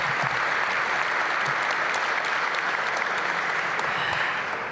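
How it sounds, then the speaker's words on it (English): Crowd applause at a Washington, D.C. public announcement event with council members, a dense, steady clapping roar that fills the whole stretch at full strength and tapers only slightly at the end. "Give them a big round of applause."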